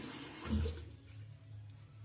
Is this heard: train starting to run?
no